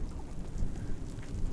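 Steady rain shower falling while the sun shines outdoors at a campsite, a dense, even patter with low rumbling noise and no talking.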